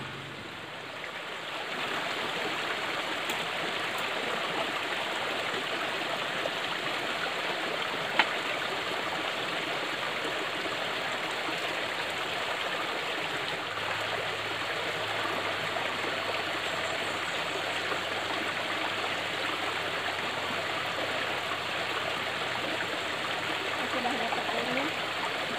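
Clear stream water flows near an old garden house in a steady, full rushing wash that carries on unbroken at close range, with no voices over it.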